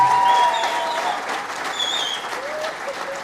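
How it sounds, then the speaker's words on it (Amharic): At a film premiere, an audience applauds the honoured artists in a brief burst of dense clapping, loudest at the start and easing slightly, with some voices mixed in. "አጨብጭቡላቸው"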